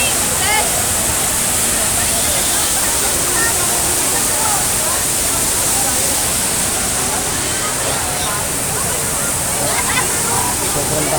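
Majayjay Falls pours down from the mountain in a constant, loud roar of rushing water, a steady, dense wash with no pauses. It is heard near and alone.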